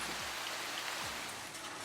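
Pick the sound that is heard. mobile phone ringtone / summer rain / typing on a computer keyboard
summer rain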